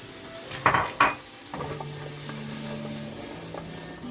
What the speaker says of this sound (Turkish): Şimdi biberleri döküyorum içine.